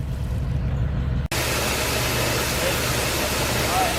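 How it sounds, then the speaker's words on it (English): A sweep auger runs inside a grain bin as a steady mechanical drone with low engine hum, briefly cutting out for an instant before continuing constant and close. "It is very important to stay clear of the auger, especially since right now it's running."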